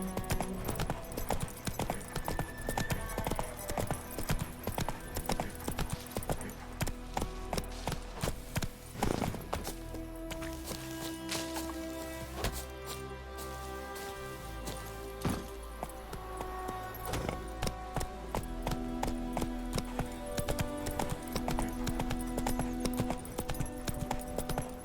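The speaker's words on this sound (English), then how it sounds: "Whoa there, Roach." Horse gallops steadily in The Witcher 3 video game, rhythmic hoofbeats continuing throughout over game music and ambience, with a brief neigh-like sound midway.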